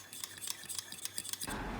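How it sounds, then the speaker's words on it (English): A spoon stirs condensed milk into coffee decoction in a cup or bowl, giving a quick run of close, light clinks and scrapes before a softer swirl at the end. "Now I am adding the condensed milk to it and mixing it well"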